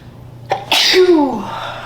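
A single sharp sneeze, with a quick intake of breath before the explosive burst, close and fairly loud.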